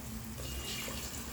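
A steady stream of water pours continuously into a pan of sautéed curry base, a dense, even rush with no talking.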